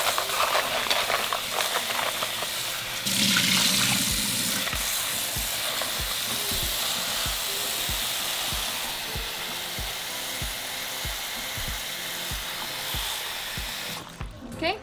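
Dried chiles get a quick rinse under running tap water, a steady broad splashing hiss that continues almost unbroken, with soft knocks and handling noises beneath it.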